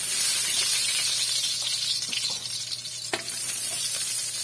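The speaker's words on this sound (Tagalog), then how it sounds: "Magigisa na po natin ang ating mga ingredients." Ingredients sauté in melted butter for a pinakbet with shrimp, producing a bright, close sizzle that hisses steadily while a utensil scrapes and taps the pan a few times.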